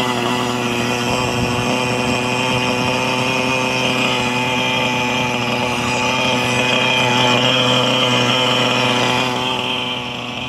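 A small OS 0.37 glow engine running on cool power fuel in a Hirobo Lama model helicopter holds a steady, high, buzzing drone with strong harmonics, loud and close throughout, easing slightly near the end.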